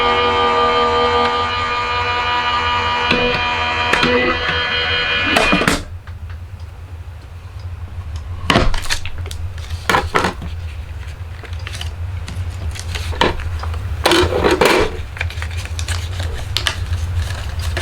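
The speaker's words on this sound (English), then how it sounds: "I am going to use my electronic cutting machine, so just bear with me with the noise" An electronic cutting machine cuts card stock for a winter card, first a whirring motor whine for several seconds, then a quieter hum broken by sharp clicks and clunks of the carriage moving.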